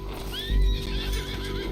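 A horse in Red Dead Redemption 2 lets out a rising, wavering whinny over the thud of hooves and a low rumble, with loud bursts of heavy footfalls in the middle.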